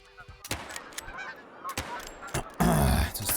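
Geese honking in the hunting game theHunter: Call of the Wild at Askiy Ridge, a flock calling in bursts with loud overlapping honks and a dense clamor near the end.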